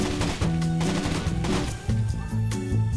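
Rapid bursts of loud gunfire in a tactical shooter game's terrorist hunt mode on the Havana map, dense overlapping shots in quick succession with no talking.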